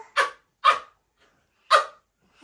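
A voice imitates a fox's call with three short, sharp, bark-like yelps spaced apart, close and clear, with another starting at the end.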